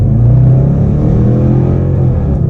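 A 2017 Range Rover SVR Sport accelerates hard, its engine giving a loud, steady, deep rumble with a rising growl that fills the whole stretch, close and without voices.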